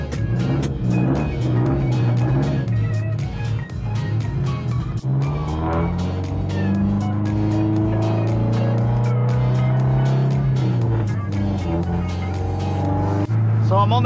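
A car pulls away and drives off, picked up by a GoPro microphone: a steady engine drone rises and falls through the gears, with a person talking over it.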